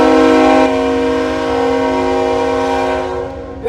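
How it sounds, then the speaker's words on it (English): A loud, sustained train horn blares close by in downtown Greensboro, holding one steady multi-tone chord for several seconds before trailing off, with no talking over it. "It's an impressive horn from that train."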